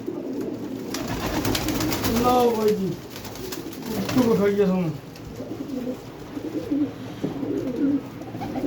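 Pigeons coo in soft, rolling bursts while someone talks over them throughout.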